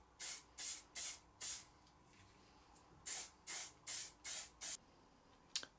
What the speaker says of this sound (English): I'm going to use some spray lacquer, some high coat spray lacquer, just to bring up the grain pattern